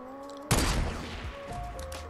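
A sudden loud burst of gunfire in the video game Fortnite, starting sharply and then trailing off into a quieter, rattling tail.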